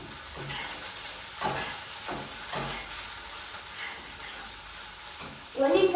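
Green chillies fry in a pan, giving a hissing sizzle with a few stirring bursts and a louder flare near the end, heard close with faint background voice.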